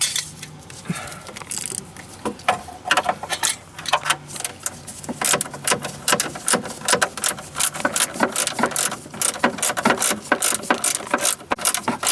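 A hand ratchet tightens new nylock hardware on a DeLorean radiator fan shroud during a high-performance cooling fan upgrade. Close, loud bursts of rapid clicking repeat with short pauses and metallic clinks, with no talking.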